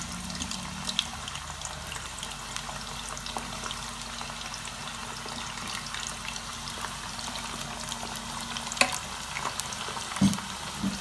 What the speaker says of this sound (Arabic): هنا غادي ندير هاد البطاطا هذه تقلى، ما غاديش تقلى تتحمر.